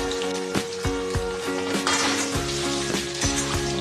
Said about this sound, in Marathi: मस्तपैकी असं फ्राय करून घेऊ आपण